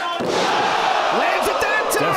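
A wrestler lands a splash on her opponent in a women's wrestling match, one heavy slam on the ring, with a crowd roaring around it and a commentator talking over it.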